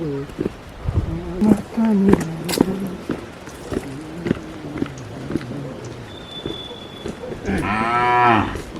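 Cows moo loudly and repeatedly, with long low calls mixed with a voice talking and a final drawn-out moo at close range.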